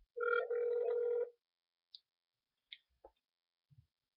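A phone call ringing tone plays once as a single steady buzzy tone lasting about a second, then falls silent. A few faint clicks follow.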